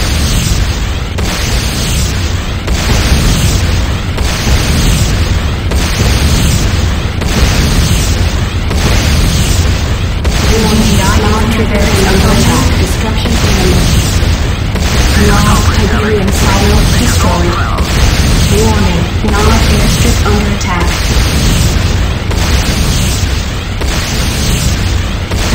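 Explosions as a GDI Tiberium silo is destroyed in the Renegade video game, loud repeated booms and bursts over a constant roaring battle background lasting the whole stretch.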